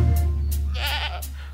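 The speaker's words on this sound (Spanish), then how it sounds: "Cuando regresó, él montaba una cabra." A cartoon goat in a Spanish nursery rhyme gives a single wavering bleat over steady background music, clear and close.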